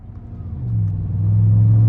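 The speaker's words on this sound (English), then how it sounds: "I love the sound this exhaust gives off. It's just so menacing, so deep, so throaty." A deep, throaty engine rumble builds as a 2015 GMC Sierra 1500 pickup with a 5.3 engine accelerates, its low exhaust drone growing louder and steadier up close.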